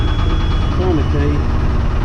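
An old, cold Ford marine diesel engine is started with a heat gun running and the throttle pulled back. A loud, steady engine rumble runs under a person talking.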